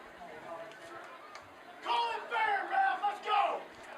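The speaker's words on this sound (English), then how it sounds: "crowd's getting a little involved for Vista Ridge" Spectators at a high school football game between Pueblo West and Vista Ridge break into loud yelling and cheering during a timeout, with several swelling bursts of crowd noise rising over a steady background murmur.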